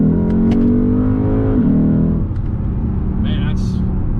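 Lexus GS F sports car with an aftermarket mid pipe and axle-back exhaust, its engine revving loudly with a rising then falling drone that stays steady under speech throughout.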